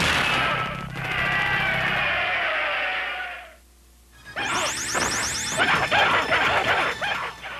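Objects being smashed during a Mortal Kombat Test Your Strength bonus round in the early-1990s arcade game: a loud sustained noisy burst, a brief lull, then a crashing, whooshing hit with bright repeated impacts and game effects.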